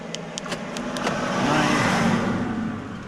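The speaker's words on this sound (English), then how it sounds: "Garbage truck." A garbage truck rolls past on a street, its engine noise swelling and fading over about three seconds with a few faint clicks near the start.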